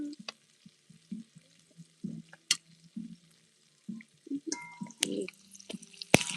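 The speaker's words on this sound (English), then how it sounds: "We're getting the onions to glaze the pan." Onions frying in a pan for brown stew chicken, a soft sizzle broken by clattering stirs, scrapes and occasional drips, with louder utensil knocks toward the end.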